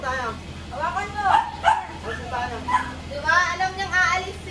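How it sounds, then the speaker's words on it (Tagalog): A new pet dog barks, yips and whimpers excitedly at home, with a series of short, close, high-pitched cries mixed with talking voices over a steady background hum. "ito nga pala si Ice, yung bago naming aso."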